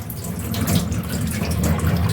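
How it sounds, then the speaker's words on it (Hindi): Kitchen tap water runs steadily while used tea leaves are rinsed, a continuous close splashing rush with no voices. "चाय पत्ती को इस तरीके से ना 2-3 बार पानी से धो देंगे"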